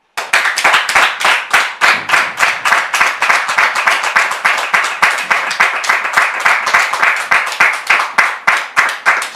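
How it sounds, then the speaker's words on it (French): Audience applauding as guests arrive, loud rhythmic clapping in a steady synchronized beat, close and sustained for several seconds without talk. "Merci de les recevoir avec vos applaudissements"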